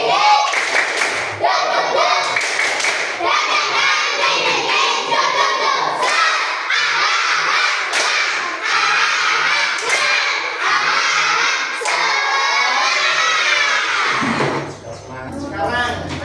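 Children doing a rhythmic clapping chant in a classroom, groups of sharp hand claps in patterned bursts mixed with loud chanted voices, lively and close, ending in a short thud.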